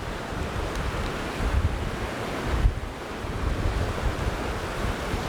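Ocean waves wash in and out on the shore, a steady broadband rush with wind buffeting the microphone and surges swelling and receding over several seconds, alone with no talk.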